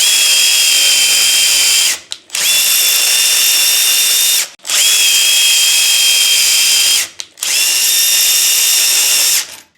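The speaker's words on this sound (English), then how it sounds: "then you can just attach your driver to it and run nuts down all thread" A cordless drill driver fitted with a socket wrench spins nuts down threaded rod, its high steady whine running in long loud bursts that stop briefly between runs.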